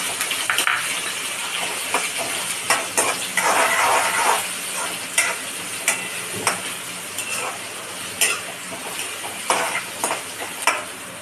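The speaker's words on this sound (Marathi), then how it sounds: "थोडासा भाजून घेऊया कांद्याला" Chopped onion fries in a hot kadhai with oil, green chilli and curry leaves for kanda poha, steadily sizzling up close while a spoon stirs and scrapes with sharp intermittent clinks.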